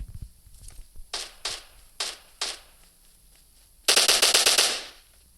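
Gunfire in the mobile battle royale game PUBG Mobile: a few spaced single shots followed by a fast, loud automatic burst of about eight rounds, close and clear with no voice over it.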